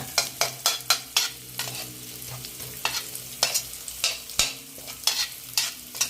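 Garlic frying and being stirred in a hot pan for Thai stir-fried instant noodles: sharp, rapid scraping stirs over a continuous close sizzle, loud and busy with no talking.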